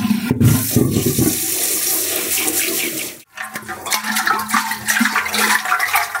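Water is poured loudly into an old, unused clay water pot, a steady gushing splash that breaks off briefly, then resumes as a second, slightly lighter pour.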